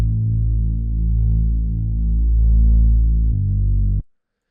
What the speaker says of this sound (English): And in our break parts, we have the Reese bass.